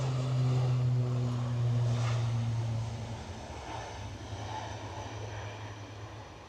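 An EasyJet airliner departs Edinburgh Airport, its engine drone steady and fairly distant, a low tonal hum fading slightly after the first few seconds with broadband roar beneath.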